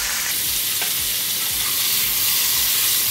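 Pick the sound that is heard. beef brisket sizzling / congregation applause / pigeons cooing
beef brisket sizzling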